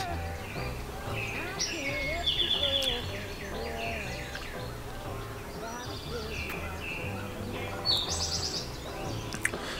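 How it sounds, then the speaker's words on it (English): Many wild birds call and chirp at once in woods along the Tail of the Dragon road, overlapping songs, tweets and repeated trills at varied distances over a steady background hum, with no talk. "I have heard probably 10 plus different bird calls, like bird sounds, including woodpeckers."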